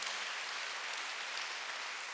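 A church congregation claps together during a Korean Sunday worship sermon, a dense, steady wash of applause that holds evenly throughout without any voices.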